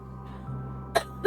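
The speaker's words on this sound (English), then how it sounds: "Don't cough at me." A person gives two quick, sharp coughs near the end, close and fairly loud, over a low steady background hum.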